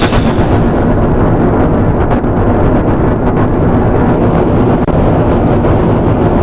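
Rocket engines firing at launch in the video game Kerbal Space Program, a loud continuous roar with rumbling low end and crackle, steady throughout with no talking.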